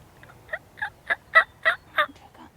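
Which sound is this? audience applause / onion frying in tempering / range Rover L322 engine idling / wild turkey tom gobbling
wild turkey tom gobbling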